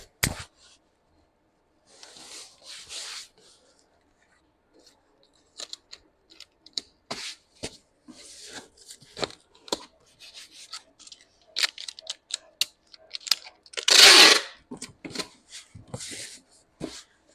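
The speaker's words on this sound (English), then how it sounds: "Cool, let's seal this box up now." A cardboard box sealed with packing tape, heard close as scattered rubs, crinkles and short scrapes, with one loud, drawn-out tearing burst near the end.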